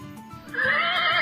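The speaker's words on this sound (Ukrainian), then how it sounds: "Це кінь." A horse neighs loudly, a rising whinny that swells and holds with a strained, vibrating tone after a brief quieter start.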